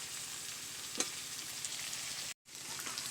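Chow mein sizzles and crackles steadily in a hot pan as it is stir-fried, with a brief stir knock and a short gap of silence near the end.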